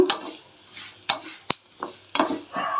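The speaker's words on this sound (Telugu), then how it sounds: "కొంచెం చిట్టుపట్లాడుతున్నాయి లో ఫ్లేమ్లో పెట్టి వేపుకోవాలి" Flax seeds crackle and pop while roasting in a pan on a low flame, with a few sharp, sparse ticks and light scraping sounds, close and fairly quiet.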